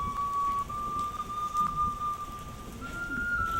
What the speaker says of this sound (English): At last, it rains.